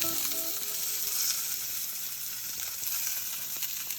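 Steady, dense sizzling of Mangalitsa Red Wattle cross pork chops frying in a hot pan, fat rendering, a continuous hiss with faint crackles, close and fairly loud, no voices.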